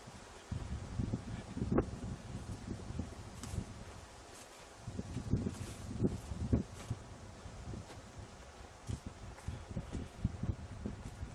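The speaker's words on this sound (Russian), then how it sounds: "Какой ветер сегодня." Wind gusting outdoors with rustling, uneven bursts of noise rising and falling against a quiet background.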